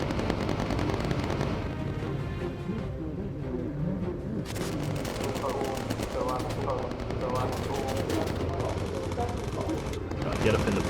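Bomber turret gunfire in the video game Bomber Crew: rapid bursts of machine-gun fire with dense crackling rattles over a droning engine bed, steady and fairly loud throughout.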